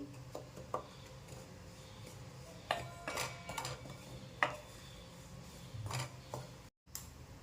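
Cashew powder mixed in a pan with the gas off while making barfi: quiet, close scraping and light metallic clinks at an uneven pace, with a brief silent gap near the end.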